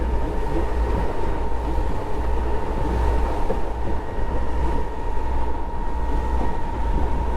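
Electric sportsboat running flat out at about 31 knots on open water, a steady loud rush of hull and water noise with a low electric hum and wind buffeting, continuous throughout with no voices.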